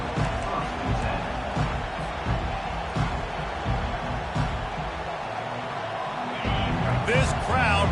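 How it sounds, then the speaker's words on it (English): Stadium crowd noise in the College Football 25 video game forms a steady, dense roar throughout, with a commentator talking over it. "This crowd bringing an ear-splitting welcome to their visitors"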